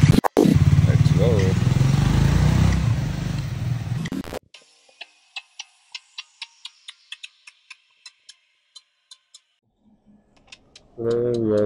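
A motorcycle rumbles loudly with wind rush for a few seconds, then cuts to a steady series of sharp ticking clicks in near silence before the engine noise returns.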